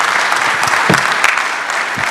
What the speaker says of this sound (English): let's give a round of applause for Curtis Height.